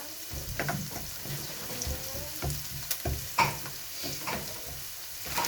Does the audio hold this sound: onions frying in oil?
yes